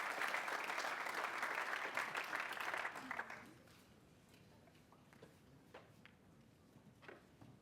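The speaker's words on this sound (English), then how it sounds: "let's have one round of applause now as we welcome Annalise" A college convocation audience applauds to welcome a student speaker, a steady mass of clapping for about three and a half seconds that stops sharply, leaving faint room noise and a few stray knocks.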